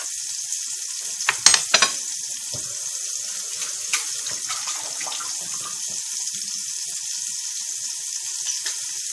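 Garlic sizzling in oil in a pan, a soft steady hiss with a few brief clinks and scrapes of a utensil early on, close by and with no voices.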